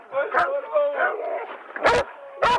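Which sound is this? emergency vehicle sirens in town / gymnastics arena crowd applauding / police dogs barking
police dogs barking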